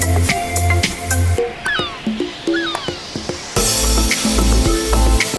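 Seagull calls sampled into a music track: a few sliding, squawking cries rise and fall over a pulsing beat that drops out briefly, then returns with heavy bass.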